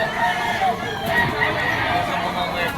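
A White Kelso Bull Stag fighting rooster crows at a crowded pet market in Malabon, its call rising over a dense bed of nearby chatter and crowd noise, with people talking throughout.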